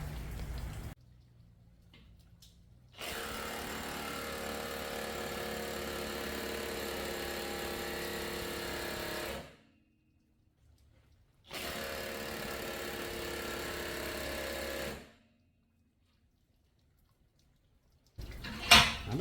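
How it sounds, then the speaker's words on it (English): A DeWalt DCF900 1/2 inch impact wrench hammers on a Craftsman nut splitter in two long, loud, close bursts of rapid rattling impacts, each lasting several seconds, separated by silence. "going to put it onto my DCF 900 1/2 inch impact"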